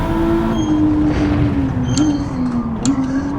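Nissan Fairlady Z on standard tyres in Gran Turismo 7, its engine droning loudly as it accelerates and holds revs, pitch wavering with throttle, a few faint ticks over the steady roar.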